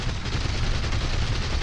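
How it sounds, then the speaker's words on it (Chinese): An Fw-190A5 fighter's cannon fires in a flight combat video game, a dense, continuous burst of rapid gunfire lasting under two seconds. "开机炮"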